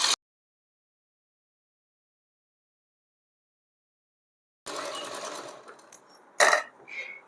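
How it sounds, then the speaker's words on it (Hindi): A sewing machine stitches fabric in one short burst of rapid mechanical whirring and clatter after a long silence, followed by a couple of brief handling knocks, with no talking. "इसको इस तरीके से एक पैर का मार्जिन देते हुए हम पूरे में सिलाई लगा देंगे"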